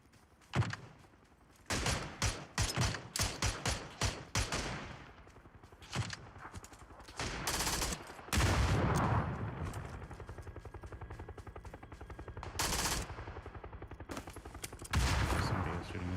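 Gunfire in the battle-royale game PUBG during a tournament broadcast, loud bursts of rapid automatic shots and single sharp cracks coming in clusters, with pauses and a sustained roar between volleys.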